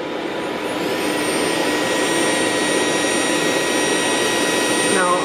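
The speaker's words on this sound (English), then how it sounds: "Geschwin Power Hand 3 with a tungsten carbide bud-shaped cross cutter" A Gesswein Power Hand 3 rotary carver fitted with a bud-shaped tungsten carbide cross cutter on a 3/32 inch shaft, running as a steady, loud high-pitched whine while carving teal drake wing feathers.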